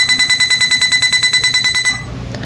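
An 8-eye car parking sensor sounds its buzzer in rapid, evenly spaced high-pitched beeps for about two seconds, close and loud, then stops abruptly.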